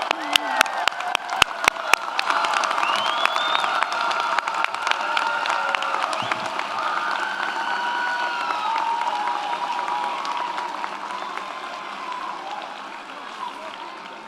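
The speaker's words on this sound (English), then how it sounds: "Let's give a round of applause to the graduates for the School of Business, Mathematics, Engineering, and Technologies." A commencement audience applauds graduates of a school of business, mathematics, engineering and technology, with a few sharp claps first, then a sustained wash of clapping and cheering voices that slowly fades.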